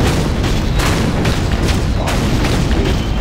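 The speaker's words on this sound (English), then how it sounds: "Artillery en route, General." Artillery cannons fire in a real-time strategy video game, a dense run of booming blasts and rumbling impacts layered over continuous loud battle noise.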